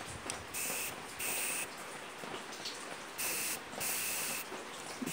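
A refilled aerosol can sprays in several hissing bursts of about half a second each, separated by short pauses, close and fairly quiet.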